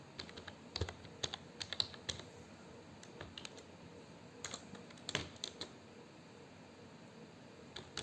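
Code being typed on a computer keyboard, with scattered bursts of light, close key clicks and short pauses between runs of keystrokes.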